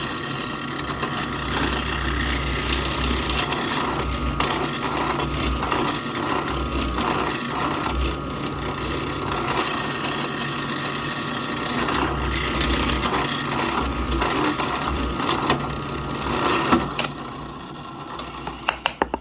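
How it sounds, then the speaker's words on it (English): A power drill bores all the way through a piece of wood, a continuous motor whine with grinding bit noise that holds steady for most of the run and then trails off into a few sharp knocks at the end. "you're going to drill that all the way through"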